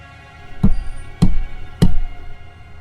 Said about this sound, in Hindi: बेडरूम के दरवाजे पर हल्की सी दस्तक हुई